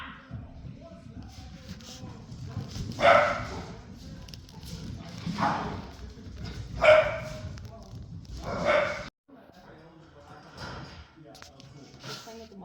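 Two young puppies play and tussle, letting out several short yips and barks among shuffling and scrabbling, while a person talks over them now and then.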